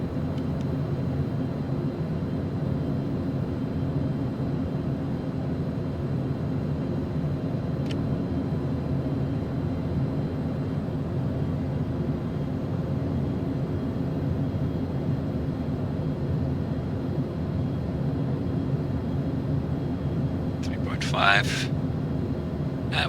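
A small airplane cruises and descends toward the airport, its engine a steady low drone filling the cabin throughout, with a brief crackle of radio or noise near the end.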